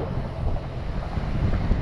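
Heavy wind buffets the microphone in a constant low roar while riding a bike along the Marilaque highway, with no voices, loud and close for the whole short stretch.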